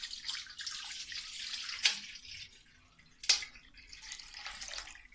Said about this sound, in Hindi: इसके अंदर आपने डालना है 2 kg पानी